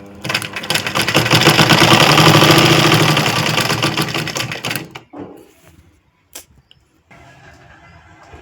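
An electric sewing machine stitches a folded dart on a blouse, running loud and continuous for about five seconds before stopping, followed by a few soft handling clicks and quiet rustles.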